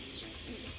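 A pigeon cooing softly on a pigeon farm, a brief faint low coo with no talk.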